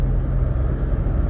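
A third-generation Toyota Tacoma TRD pickup with 187,000 miles pulling away, a deep, loud engine and road rumble heard from inside the cab, steady and brief.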